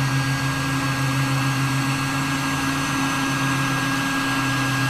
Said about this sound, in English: we're gonna go ahead and kick on this 1500 watt heat gun